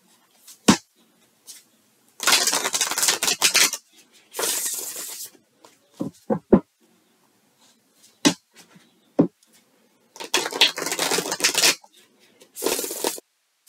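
Tarot cards shuffled and laid out on a table in bursts of brisk riffling and slapping, with sharp single snaps of cards set down between quieter gaps, close and fairly loud with no voices.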